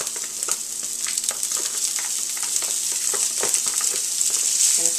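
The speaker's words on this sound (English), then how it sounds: "we're starting with a cast iron skillet that's blazing hot and smoking. We're going to add our pancetta." Pancetta sizzling in a blazing hot, smoking cast iron skillet, a dense continuous crackle with sharp pops scattered throughout, close and fairly loud with no voices.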